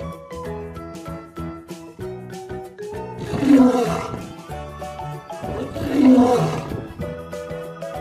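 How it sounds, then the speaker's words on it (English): Two loud lion roars from a children's animal toy sequence, each swelling for about a second and spaced a couple of seconds apart, layered over continuous upbeat background music. "Lion."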